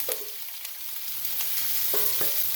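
Scallop, shrimp, clam and octopus stir-fry in a hot pan, a soft steady sizzle with a few sharp scrapes and clinks of the utensil, close and without any talking.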